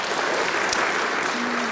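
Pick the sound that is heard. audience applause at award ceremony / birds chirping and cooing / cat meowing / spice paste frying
audience applause at award ceremony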